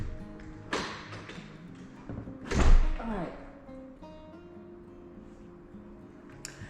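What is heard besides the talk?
front door of a house being opened and shut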